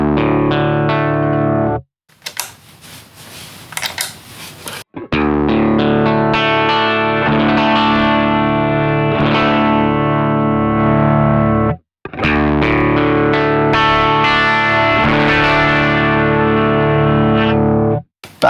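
Electric guitar run through a Hologram Chroma Console effects pedal, loud sustained distorted chords with chorus-like shimmer, broken by a brief noisy scratch near the start and a short drop before the chords swell again.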